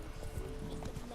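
Roach, Geralt's horse in The Witcher 3, gallops with steady clip-clopping hooves close by, a soft continuous thudding rhythm running throughout.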